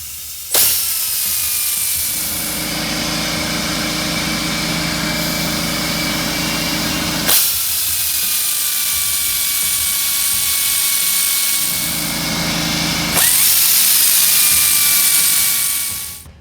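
Air wrench spinning out diff cover bolts on a Jeep JK, three long loud whirring bursts with a falling whine, each starting abruptly and the last ending in a taper, near and without talk.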